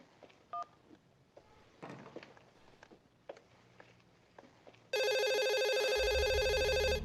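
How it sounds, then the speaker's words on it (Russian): A loud telephone ring with a dense, steady electronic tone starts abruptly partway through and continues to the end. Before it there are only quiet scattered knocks and faint background noise. "Я уже звоню тебе в 100-й раз."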